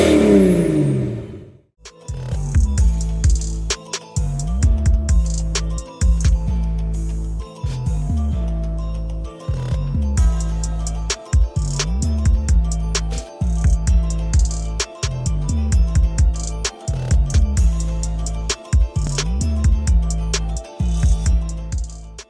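A zero-turn mower's small carbureted engine runs steadily while warming up in a shop, loud and close, with a repeating rhythmic pulse and brief dips in level throughout.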